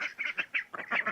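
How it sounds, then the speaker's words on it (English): A farm goose honks repeatedly in a quick run of loud, close calls, about six or seven honks in just over a second, with no talk. "there's one of our geese"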